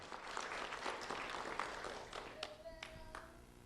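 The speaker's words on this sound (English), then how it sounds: "Round of applause for Vanessa DeSantiago" An audience at a ceremony honouring a student applauds for a few seconds, a moderate, fairly distant wash of clapping with a few sharper claps and tones near the end.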